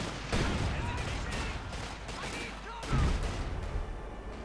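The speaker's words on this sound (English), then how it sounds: "Artillery strike." Artillery shells land in a Company of Heroes 2 match. The barrage makes a loud, dense roll of booming impacts, with two heavier blasts near the start and near three seconds. Game noise and voices run underneath.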